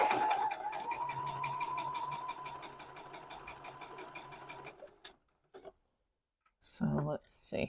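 Sewing machine stitching 2.5-inch fabric squares for a hidden nine patch quilt block, a close, steady rapid whirring hum for about five seconds that then stops, followed by a brief voice.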